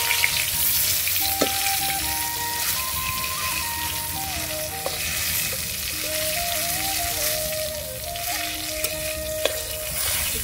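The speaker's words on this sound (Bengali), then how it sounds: "পটলটা ভাজা হয়ে গেছে" Pointed gourd (potol) fries in oil in a pan, giving a steady, loud, close sizzle with crackles and spatters throughout and occasional stirring clinks. No voices.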